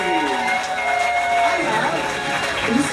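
A live audience applauding and cheering for a crew staff team introduced on stage, a dense, steady wash of crowd noise with a faint tone running under it.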